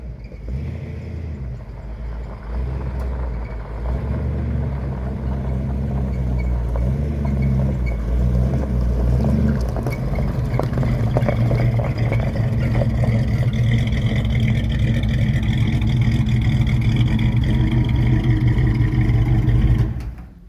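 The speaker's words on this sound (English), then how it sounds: "He's the first one to get to drive it with the new exhaust on it." A muscle car engine fitted with a new DIY exhaust kit rumbles loudly and steadily up close, idling then revving with a deep throaty exhaust growl that builds over time.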